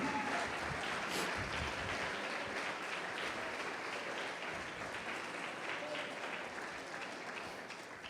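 Steady, dense applause from a church congregation, sustained evenly for several seconds with a faint voice or two mixed in.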